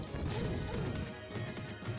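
Grenade blasts in The Punisher arcade game, a heavy crashing explosion sustained across the short stretch with a loud booming low end and no voices.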